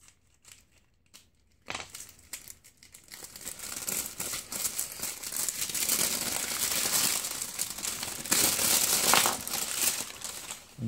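Paper wrapping from a Reelight Nova bike light is crumpled and crinkled close by, starting with a few soft rustles and building into long, loud continuous crackling handling.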